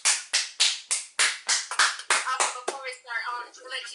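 A small group claps for four players at a casual card game, about a dozen sharp, evenly spaced claps that blur into a brief scattered patter, close and loud.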